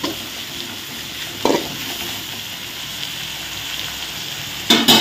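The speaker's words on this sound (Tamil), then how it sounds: "இப்போ பார்த்தீங்கன்னா தக்காளி பழம் வெந்துட்டு வருது." Tomatoes frying in a pan for a country chicken curry, a continuous sizzle with a few short scraping bursts of stirring, close and clear with no talk.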